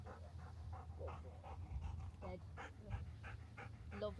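A retriever breathes in soft rhythmic pants during a training session outdoors, with low murmuring speech and faint whimpers mixed under a steady background.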